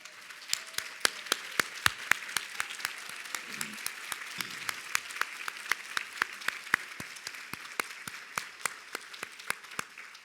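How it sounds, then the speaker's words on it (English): Board and advisory council members stand at a charity luncheon while a modest group claps, steady and even through the whole stretch, individual hand strikes standing out crisply in a fairly close room. "Could all the board members and advisory council members in attendance just please stand so we can give you a round of applause?"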